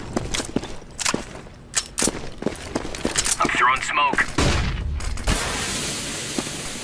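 Gunfire in the video game Counter-Strike: Global Offensive, rapid bursts of sharp shots and clicks with footsteps and a brief whooshing effect, with a person talking over it.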